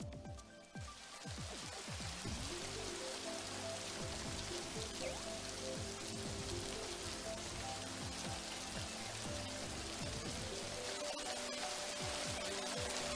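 Steady rain patters densely on a surface, a continuous soft hiss of drops with faint tones drifting in the background.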